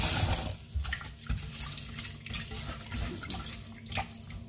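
Brown basmati rice washed by hand in cold water, with steady running and splashing water sounds from a sink throughout, fairly close, no voices.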